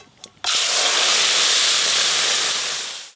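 Boiled mung dal hits hot oil already seasoned with cumin, bay leaf, dried chilli and turmeric, bursting into a loud, steady sizzle that starts abruptly after a faint tap and holds for about three seconds, close and alone.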